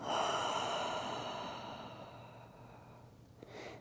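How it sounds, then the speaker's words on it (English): Deep breathing during a root chakra vinyasa yoga flow: a long, airy nasal inhale swelling and slowly fading over several seconds, then a softer open-mouth exhale starting near the end, close and alone. "let's take a deep breath in through your nose. Open mouth exhale"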